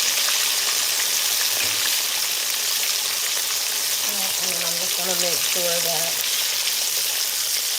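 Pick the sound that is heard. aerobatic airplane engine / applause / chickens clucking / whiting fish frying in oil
whiting fish frying in oil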